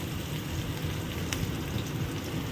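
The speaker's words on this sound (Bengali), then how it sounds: "এবার কড়াইতে দিয়ে দিচ্ছি কালো জিরে।" Nigella seeds frying in hot oil in a wok, a steady dense sizzle and crackle held at an even level for a couple of seconds with no voices.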